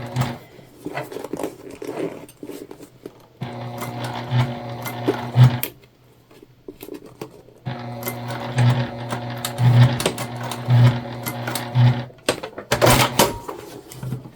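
A sewing machine runs in two long stretches of steady rapid stitching, top-stitching a small fall mini bag, with short pauses and a few clicks and handling knocks between runs.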